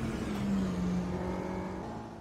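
Racing-game car engine held near maximum RPM in third gear, a loud steady high-pitched drone with a slight pitch sag, running alone without talk for about two seconds.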